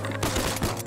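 Shotgun fire at waterfowl during a duck hunt, a dense burst of loud, close blasts overlapping in quick succession with no talk.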